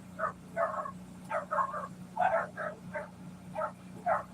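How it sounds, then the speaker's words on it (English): Puppies bark and yip in quick, high-pitched bursts, about a dozen short calls in irregular clusters, fairly close over a low steady hum. "Puppies just started barking."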